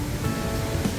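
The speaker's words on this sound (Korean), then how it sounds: "여기가 이제 쌍용폭포." Rushing water from the Ssangyong waterfall in a rocky mountain valley, where a stream flows down from Simwonsa, makes a steady, dense roar that fills the whole moment without a break.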